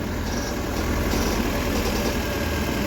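A Maruti Suzuki Eeco engine runs after throttle body cleaning, a steady, even idle hum heard up close, continuous and unchanging without talk.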